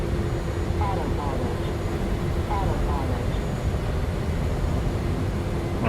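Embraer E190 jet engines at throttle in Microsoft Flight Simulator 2020, a steady low roar and hum inside the cockpit with a faint tonal whine, continuous and even.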